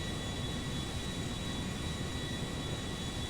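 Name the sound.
Airbus A340-300 taking off in GTA 5, from a video game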